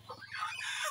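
Several hens gathered together cluck in short, uneven bursts close by, with faint crowing-like calls mixed in and no talking.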